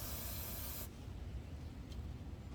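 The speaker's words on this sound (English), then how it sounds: "So we're gonna spray some of this in there." Throttle body cleaner sprays into the intake of a Chevrolet Cruze, Trax, Sonic or Buick Encore in one close, loud hissing burst lasting under a second, then stops and leaves steady low background noise.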